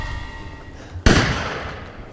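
A sharp, loud gunshot from the Resident Evil Village video game cracks out once and trails off in a short echoing decay over a low game-ambience bed, with no talking.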